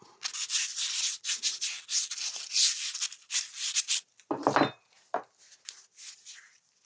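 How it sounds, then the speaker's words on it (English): A Scotch-Brite pad scrubs the drive shaft of a Honda HRS mower in quick, raspy back-and-forth strokes, close and continuous. A few metallic knocks and short rubs follow after the scrubbing stops. "get some Scotch Brite or something, and just give the shaft a bit of a clean out"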